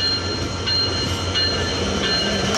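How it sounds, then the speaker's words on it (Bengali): The down Nilsagar Express, hauled by an American giant diesel locomotive numbered 6605, rolls into Saidpur station with a loud, steady rumble of wheels and faint squeals from the rails. "আমেরিকান জায়ান্ট নিয়ে কিন্তু ডাউন নীলসাগর এক্সপ্রেস ট্রেনটি এসেছে"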